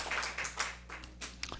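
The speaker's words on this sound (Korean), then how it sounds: "박수." Church congregation clapping during a Sunday worship service, a scattered burst of hand claps from a gathered crowd in a room with a steady low hum underneath.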